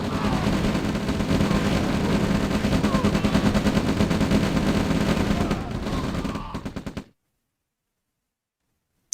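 Tanks in an OpenRA Red Alert real-time strategy match trade dense, rapid gunfire in a sustained barrage that cuts off abruptly into silence.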